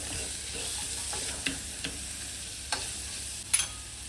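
Roasted masala for a green apple pickle is stirred and fried in a pan, a steady low sizzle broken by a few sharp scrapes and clicks of the spoon, close and fairly quiet, with no voices.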